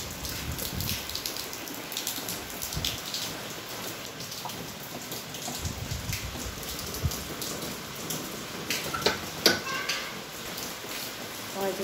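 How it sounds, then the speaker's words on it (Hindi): Rain falls outside on a hot summer evening, a steady broadband hiss with scattered drops pattering on surfaces. It stays moderately loud throughout, with faint voices in the background. "देखो बारिश भी आ गई"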